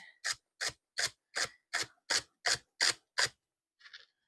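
A knife cuts through celery on a board in nine crisp, evenly spaced chops that sound close and distinct, followed by a fainter final tap after a short pause.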